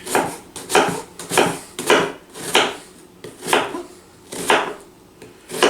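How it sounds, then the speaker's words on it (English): Knife blade chopping food on a cutting board in a home kitchen, about nine firm strokes in a steady, unhurried rhythm, close and clear with no talking. "you can chop it any way you like"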